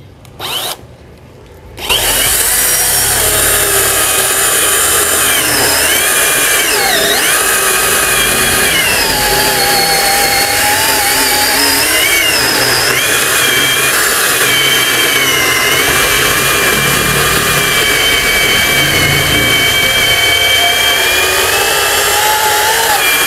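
A Dekton battery-powered chainsaw cuts through wood, loud and close. After a short quiet start the motor whines up and holds a steady high-pitched buzz with shifting pitch as the chain bites, continuing unbroken to the end.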